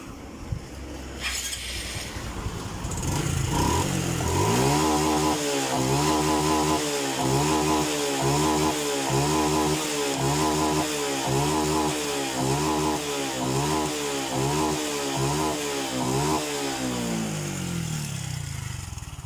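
A Honda Blade fuel-injected motorcycle engine with weak compression cranks over and starts following a TPS sensor replacement, then settles into a steady, close idle with a regular pulsing rhythm, no talking over it.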